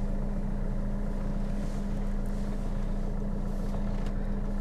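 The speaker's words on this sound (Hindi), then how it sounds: "मेरा गाड़ी पहले से ही स्टार्ट है।" A car engine idles steadily with a low, even hum throughout, heard from inside the car while the driver holds the clutch and brake in first gear on a plain road with the handbrake down.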